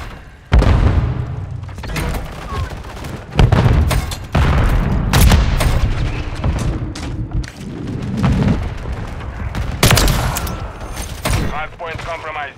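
In Call of Duty MW3 multiplayer on the Stash House map, loud nearby gunfire bursts mix with deep booming grenade explosions, and a voice calls out over the heavy, continuous combat.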